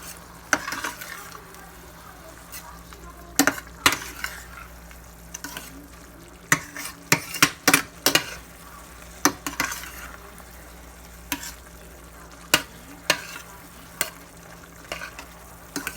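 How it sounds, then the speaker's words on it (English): Lamb bolognese with vegetables is stirred in a pan, giving sharp spoon scrapes and knocks in irregular clusters over a soft, continuous sizzle, with no talking. "Stir that up. Let it marry with the lamb and the vegetables."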